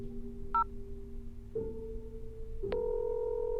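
A phone calls back a number: a steady tone plays, briefly broken by a short beep, then steps twice to new pitches with a sharp click at each change. The sound is quiet and close, with no voices.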